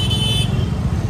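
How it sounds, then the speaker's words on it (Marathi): Busy road traffic rumbles close by, with a short, bright car horn honk in the first half second before the steady engine and road noise carries on alone. "ट्रॅफिक भरपूर आहे"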